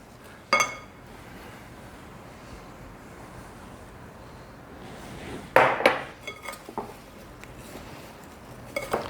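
Apples being tossed with sugar and spices in a bowl for a grandmother's apple pie, with faint clinks and scrapes of utensil against the bowl, a couple of brief sharper clatters, and no talking.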